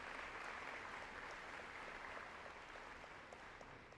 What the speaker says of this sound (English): why don't we just have a round of applause, this side of the room, for this side of the room.